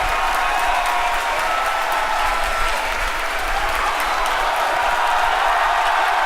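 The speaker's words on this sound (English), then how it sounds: "You can hear our crowd going crazy right now." A crowd applauds loudly and continuously, with cheering mixed into the steady clapping.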